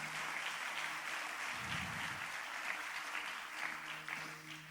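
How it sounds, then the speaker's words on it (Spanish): A church congregation applauds steadily for the whole stretch, a dense, sustained clatter of many hands with a faint murmur of voices underneath. "Denle ese aplauso al Padre Celestial."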